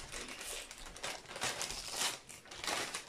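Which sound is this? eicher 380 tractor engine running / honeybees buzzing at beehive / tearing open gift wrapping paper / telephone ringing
tearing open gift wrapping paper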